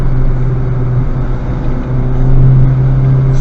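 A Honda Civic Type R roars steadily from inside the cabin on a race track during a motorsports track day, its engine a loud, sustained drone that rises slightly in pitch as it pulls.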